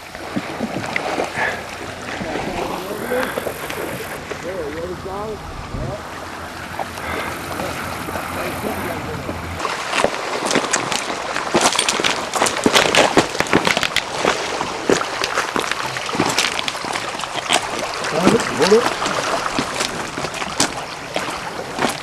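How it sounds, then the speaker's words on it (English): Water lapping and splashing against a boat as it moves along a river between Canyon Ferry and Three Forks, Montana, with wind buffeting the microphone and a faint background hum early on. "just move the boat across here"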